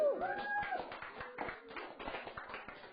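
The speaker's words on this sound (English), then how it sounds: "Can I get another round of applause for everyone who did it?" Audience applause for the performers at an evening show, quiet and fairly distant, a few seconds of scattered claps with a voice briefly audible at the start.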